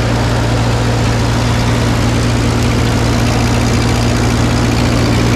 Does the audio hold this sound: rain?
no